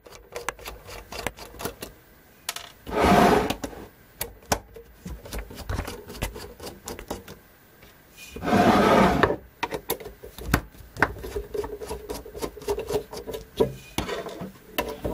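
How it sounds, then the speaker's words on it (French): Screwdriver unscrewing three screws from the outer casing of an internet network switch, heard as close, scattered scraping and clicking with two louder rubbing bursts, no talking. "il n'y a que 3 vis à l'extérieur. Voilà, donc du coup je vais les dévisser."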